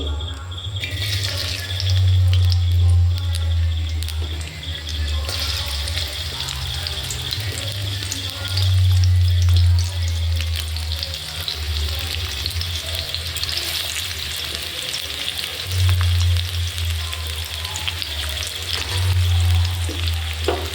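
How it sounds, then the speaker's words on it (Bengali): Onions frying in hot oil in a wok, a loud continuous crackling sizzle with a low hum rising and falling in the background. "কড়াইতে তেল গরম হয়ে গেছে, এবার আমি পেঁয়াজ দিচ্ছি।"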